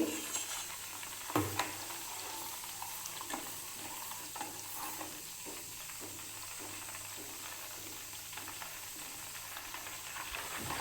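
Buffalo butter heats in a pan over a low flame while making ghee, giving a continuous soft sizzle and hiss with occasional pops and faint stirring scrapes, close and without talk.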